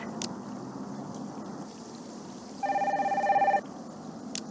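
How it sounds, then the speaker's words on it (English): A telephone rings once for about a second in the Nancy Drew game Danger by Design, a bright, steady electronic trill over a low ambient hum with faint clicks before and after. "That phone is driving me crazy."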